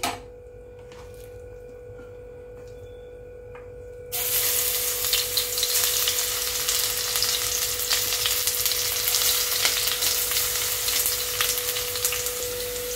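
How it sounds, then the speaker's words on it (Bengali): Okra pieces coated in gram flour hit hot oil in a wok, setting off a loud, steady, crackling sizzle that carries on unbroken after a quieter opening, with no talking. "এবার এগুলোকে আমি ভেজে নেব। গ্যাস জ্বালিয়ে কড়া বসিয়ে আমি তেল দিয়ে দিয়েছি।"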